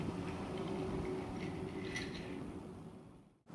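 A cartoon steam engine racing along the track, a soft steady rolling rumble with faint clicking, heard at a distance and quietly before it cuts off sharply near the end.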